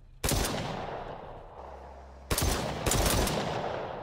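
Bursts of rapid gunfire from a video game, Grand Theft Auto, crackle loudly, one volley near the start and two more close together later, with a low hum between them.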